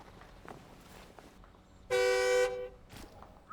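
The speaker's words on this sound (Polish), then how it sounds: "Mamy klaksonik" A truck horn in the off-road driving game SnowRunner, on an Azov 5319 with two steering axles, gives one loud, steady half-second honk that stands out clearly over quiet engine noise.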